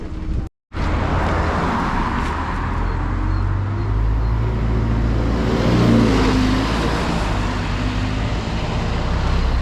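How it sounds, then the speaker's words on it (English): An Alexander Dennis E200 MMC single-deck bus operated by Land Flight drives along a road in North Warwickshire, its engine a steady, close rumble with road and cabin noise throughout and a brief dropout near the start. "our next bus is an E200MMC, which is going to take us over to Whitlock's End"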